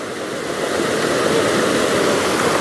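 The flooded Seuti river surges through Dharan, a loud, close, continuous rushing roar of fast water that swells slightly after the opening moment and then holds steady with no voices.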